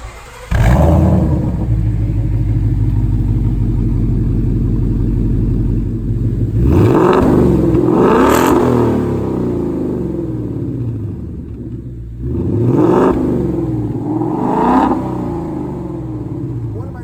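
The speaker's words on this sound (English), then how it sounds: "that exhaust sound, remember, Stainless Works catback, and it does delete the resonator" A supercharged 2016 Ford Mustang Roush with a Stainless Works catback exhaust and resonator delete idles with a deep, loud rumble, then revs sharply several times, each rev climbing and falling back to idle.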